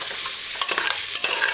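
Mashed garlic stir-fried in a hot pan for an oxtail stew, a dense constant sizzle with quick scraping stirs near the end, close and with no voices.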